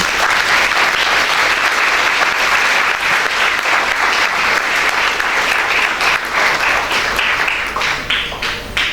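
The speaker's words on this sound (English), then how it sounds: "A big round of applause for all our children." A large audience at a school achievement ceremony gives a loud, sustained round of applause for the children. The dense clapping holds steady, then starts to thin out near the end.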